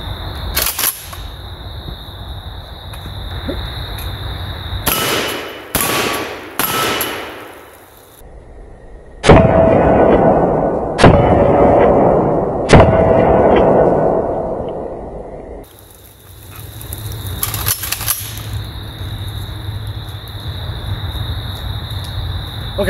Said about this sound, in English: Just having some fun blasting on the steel.